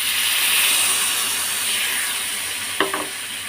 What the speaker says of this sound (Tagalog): pwede na natin ilagay ang soy sauce na tinimpla kanina